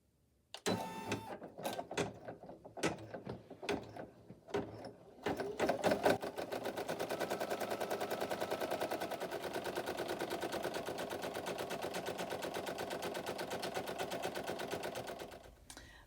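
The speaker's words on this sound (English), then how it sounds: "I'm also going to then let it stitch the satin border for the first half of the second layer." Embroidery machine stitching the satin border of an extra-large double-layer appliqué patch, a few separate clacks first, then a fast, even, continuous mechanical rattle that runs steadily and stops abruptly.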